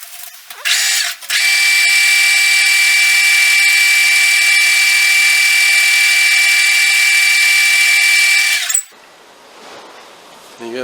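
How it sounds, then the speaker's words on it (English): A starter motor shaft from a CF250T-5 spins on a power tool while a Scotch-Brite pad polishes it, a loud, steady high whine running for about seven seconds before cutting off. "I'm going to use actually a Scotch-Brite pad, stuff you use in the kitchen, just to polish it up"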